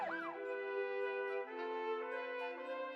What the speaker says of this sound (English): Jordy called 911, and an ambulance came to take Mr. Fraser to the hospital.